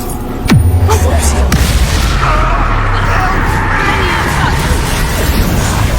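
The Confringo fire spell from the Hogwarts Legacy video game goes off with a sudden loud booming blast near the start. A dense roaring rumble then holds steady, with a few short bangs early on.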